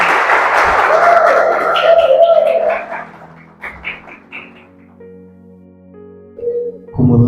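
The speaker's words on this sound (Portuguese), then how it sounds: "Uma forte salva de palmas para Edmar." An audience applauds a student representative from a school complex, loud clapping for about three seconds that then thins out into scattered claps and background sounds.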